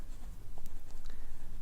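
Brief, faint scratchy strokes of writing on a board or paper during a maths lesson, a few quick marks in quiet surroundings.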